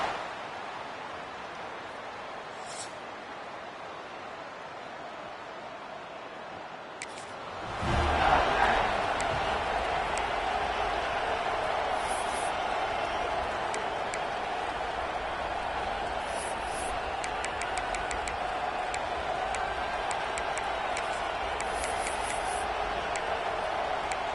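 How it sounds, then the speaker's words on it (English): A college football stadium crowd at NC State Wolfpack's home game against the North Carolina Tar Heels starts as a steady murmur, then swells into a loud, sustained roar that carries on to the end. "This crowd bringing an ear-splitting welcome to their visitors."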